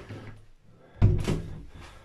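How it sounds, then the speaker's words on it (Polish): A house door closes in the dark, with a soft rustle before one solid thud near the middle and a short muffled rattle afterward, close by. "zamykam drzwi"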